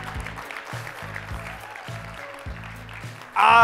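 Audience applause at an inclusive leadership session, a steady wash of clapping from a room full of people, with low rhythmic music thumping underneath and a brief louder burst near the end.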